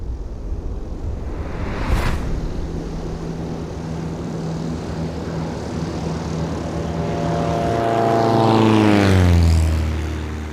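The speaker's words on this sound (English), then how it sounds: "So today we're going on a 20-minute scenic flight into the Mount Aspiring National Park." Propeller airplane on a scenic flight into Mount Aspiring National Park, New Zealand: a steady engine drone runs throughout, then swells and rises in pitch near the end as the engine powers up, loud and close.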